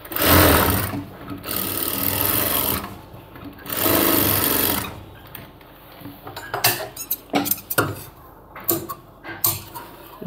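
Sewing machine stitching a cargo half pant, with two sustained bursts of rapid whirring, then a series of short clicks and taps from handling the fabric and machine, close and fairly loud.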